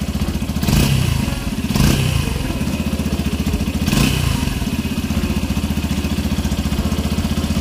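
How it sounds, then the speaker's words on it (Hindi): Yamaha FZX 150 motorcycle, a 2023 model, running steadily at close range after a single-touch start, its engine thrumming in a fast even pulse with a few brief revs blipping louder early on. "तो पहले इसको ये किल स्विच को ऑन करेंगे, फिर इसको बहुत ही सिंगल टच में स्टार्ट है बाइक। कुछ इस तरह से इसका साउंड है।"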